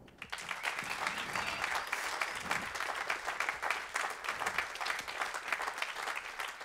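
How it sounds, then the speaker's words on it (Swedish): Sustained applause from a concert audience at a music college tribute show, dense and even clapping that fills the whole stretch without pause. "Så en stor applåd till alla."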